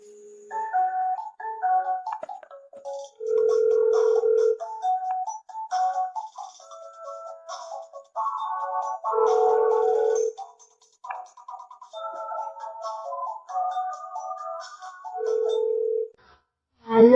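A telephone rings with a melodic electronic ringtone, playing a tune of stepped beeps punctuated by three longer sustained tones, fairly loud and alone, with short gaps between phrases.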